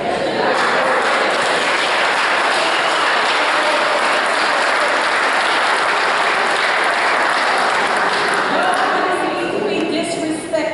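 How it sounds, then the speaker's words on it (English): A crowd in council chambers boos loudly and continuously, a dense wash of many voices sustained for several seconds with no pause. "Stop booing in these chambers."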